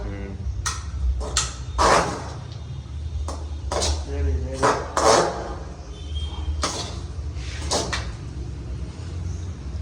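A metal ladle knocks and scrapes in a pan of poha with coriander and pigeon peas. Sharp, close metallic clinks come in irregular bursts over a low background hum.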